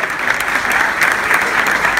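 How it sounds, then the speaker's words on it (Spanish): A crowd applauds the carnival king at a 2019 carnival awards ceremony, a dense, steady wash of clapping that stays loud and even throughout, with no talking above it. "Y el aplauso de todos nosotros para premiar el trabajo de Emiliano"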